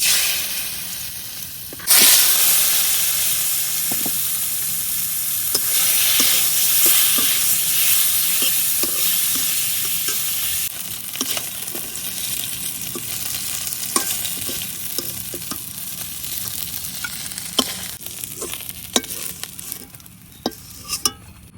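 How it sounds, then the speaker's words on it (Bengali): Turmeric and salt hit hot oil in a pan with a steady, close sizzle and hiss, broken by scattered clicks and scrapes of stirring. "এখন তেলের মধ্যে দিয়ে দিতেছি একটু হলুদ, একটু লবণ"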